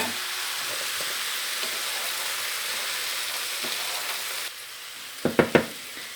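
Frozen edamame, mushrooms and meat sizzle steadily in a hot pan, a dense, even crackle that drops quieter near the end, followed by a few sharp utensil clicks.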